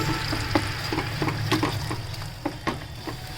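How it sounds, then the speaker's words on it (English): Gravy for paneer butter masala stirred in a hot pan, with a steady sizzle beneath repeated soft scraping and squelching strokes of the spoon at an irregular rhythm, close and moderately loud. "Now add the gravy. Now mix the gravy"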